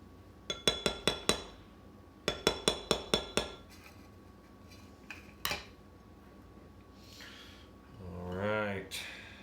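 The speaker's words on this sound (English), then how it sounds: "Give it a stir while it's warm, just to make sure everything melts in better." A spoon or utensil stirs warm brownie batter in a glass bowl, knocking against the side in two quick runs of sharp, rhythmic clinks, then a few scattered taps and soft scraping while a person speaks briefly.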